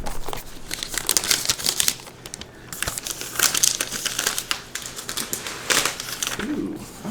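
Plastic wrap being pulled off a new MacBook Pro 16 inch: loud, close crinkling and crackling that comes in uneven bursts and runs through the whole stretch.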